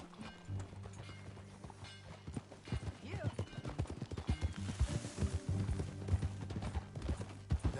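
Horse hooves in a video game clip-clop in a quick irregular rhythm as the horse moves along, with voices talking over the steps and a low background drone.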